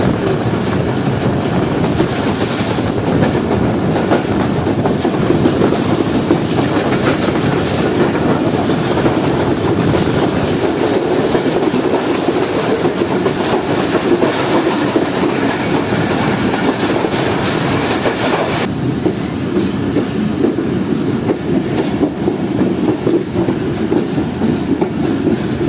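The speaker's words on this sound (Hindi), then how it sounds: "ट्रेन हमारी पहुंच गई है वॉल्टन रेलवे स्टेशन पर" Fareed Express train pulling into Walton railway station, Pakistan, a steady loud rumble of rolling carriages with clickety-clack wheel beats throughout, easing slightly near the end.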